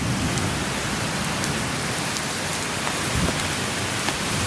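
Rain pours hard and continuously during a storm outside a garage, a dense, even hiss of drops hammering surfaces close by, with no voices.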